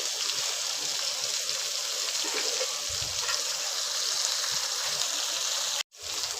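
Mandeli fish fry in a pan, a Malvani-style dish, giving a steady soft sizzle with occasional low bumps, quiet and continuous until a brief cut near the end.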